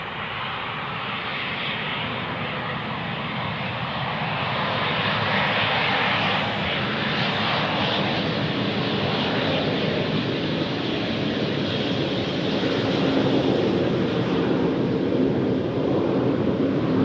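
Embraer jet passing at Amsterdam Schiphol Airport, Polderbaan runway, a loud sustained roar of jet engines that builds gradually and stays broad and heavy for the whole stretch, outdoors with no voices.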